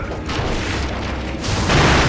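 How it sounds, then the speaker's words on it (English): Firecrackers going off in Sekiro, a dense crackling, booming burst that stays loud and continuous for a couple of seconds, swelling toward the end with no talk over it. "Firecrackers do a little bit of damage."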